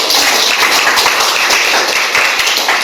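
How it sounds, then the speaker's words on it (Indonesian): An audience applauds at a training session, with dense, continuous clapping held at a steady level throughout. "berikan aplaus untuk kita"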